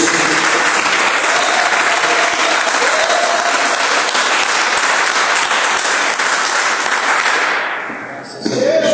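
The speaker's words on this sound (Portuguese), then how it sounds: "quem pode dar uma salva de palmas bem alegre para Jesus?" A church congregation gives loud, sustained applause, dense clapping filling the space for about eight seconds before it fades out near the end.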